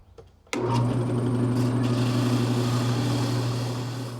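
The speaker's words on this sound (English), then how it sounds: "I'm going to take it over to the drill press, and let's clean up the bottom on this" A drill press whirs up suddenly after a brief quiet moment and settles into a loud, steady motor hum while spinning a workpiece for 60 grit sanding.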